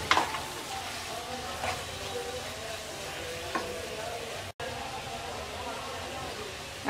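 Half a cup of soft date palm jaggery goes into spices sizzling in a pan for a sweet wood apple pickle, giving a steady close frying hiss broken by a few soft stirring scrapes.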